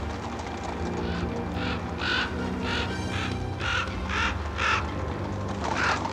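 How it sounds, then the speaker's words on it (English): Several crows caw repeatedly in bursts over a steady outdoor background hum, moderately distant, no voices. "It's probably those darn crows."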